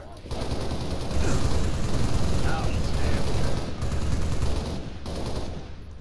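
Halo Reach assault rifle fire sprays in sustained automatic bursts, loud and close, with short breaks near four and five seconds and a wash of battle noise beneath.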